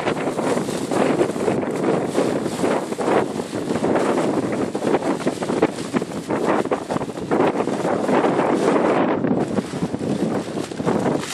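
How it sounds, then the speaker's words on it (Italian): Cold wind gusting straight into a microphone outdoors, a steady loud rumbling roar with buffeting surges throughout and no voices. "Oggi c'è il vento freddo,"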